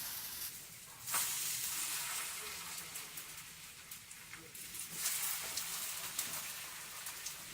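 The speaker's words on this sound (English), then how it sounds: "When the oil is hot, we are going to put the slices of banana" Banana slices frying in hot vegetable oil give a steady, crackling sizzle with scattered sharp pops and spits, close and continuous throughout.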